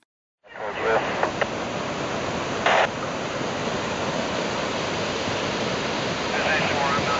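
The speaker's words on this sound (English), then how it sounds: "Probably a foot and a half to 2 feet of water at the top coming down, Campbell." Floodwater from the 2010 Schultz Fire burn scar rushes down a channel about a foot and a half to two feet deep, a loud, steady broadband roar that runs unbroken for several seconds with no voices.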